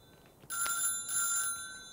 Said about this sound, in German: Telefon. Ja doch, bin gleich da.